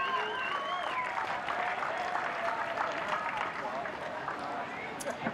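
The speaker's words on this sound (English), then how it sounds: "Round of applause for Snapper Rocks" Crowd applause at a surf event honouring the Snapper Rocks club, dense clapping that carries on steadily while voices ring out over it.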